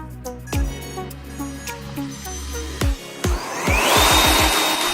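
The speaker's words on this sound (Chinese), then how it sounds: "安装上层结构，安装电机和风筒，焊接电条测试一下。" A 3D-printed hovercraft's lift fan motor spins up in short whirring bursts, rising to a steady loud rushing whine of air near the end, with clicks and handling noise between runs.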